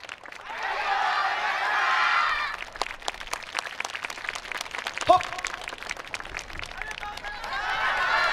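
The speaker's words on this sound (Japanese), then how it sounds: "北海道野生合同北人の皆さんにもう一度大きな拍手をお願いします。" An audience claps at the Michinoku YOSAKOI festival in Sendai, with outdoor applause swelling and fading in waves, while a loud crowd roar opens and closes the clip around sparser scattered clapping.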